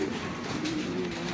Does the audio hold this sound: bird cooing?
yes